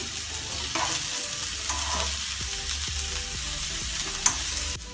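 Food sautéing in a hot pan with a pinch of salt for an egg bhurji dish, a steady close sizzle under regular stirring scrapes and utensil knocks, one sharper clink near the end; no talking.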